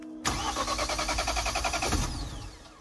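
A car engine cranks repeatedly in a rhythmic, even starter whir for about two seconds on a freezing night before snowfall, failing to catch, then fading out.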